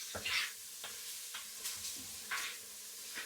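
Shallots frying in a pan for pork in cider are stirred, giving a soft, fairly quiet sizzle with intermittent scraping strokes and light taps, no talking.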